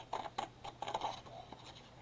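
Quiet snipping of scissors through paper, a handful of short crisp cuts in an uneven rhythm, close and soft, with no talking.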